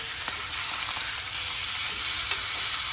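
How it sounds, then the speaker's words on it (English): Beef shanks, freshly turned over, frying in a pan with a loud, dense, continuous sizzle and a few faint clicks, close up and without talk. "Turn over these shanks."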